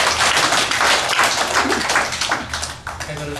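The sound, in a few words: congregation clapping in church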